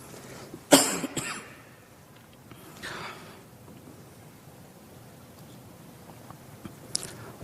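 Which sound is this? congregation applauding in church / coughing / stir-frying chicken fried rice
coughing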